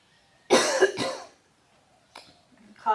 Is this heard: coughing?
yes